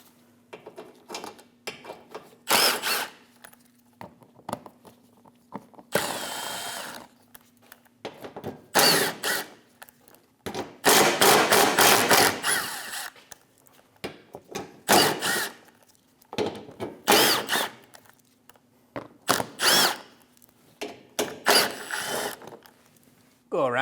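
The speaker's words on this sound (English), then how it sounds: "Using a 10mm socket, go around the shield and remove all of the bolts." A 10mm socket ratchet removes the bolts from the under shield of a 2016 Scion iA during AC compressor work. It makes repeated bursts of rapid, close clicking, separated by short quiet pauses.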